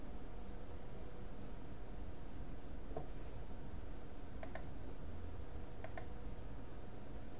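Two sharp clicks of a computer mouse, then a second pair a little later, sit faint against a steady hiss of background noise.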